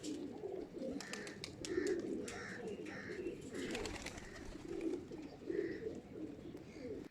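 Pigeons coo again and again, soft throaty murmurs overlapping close by, with a few light flutters and clicks in between.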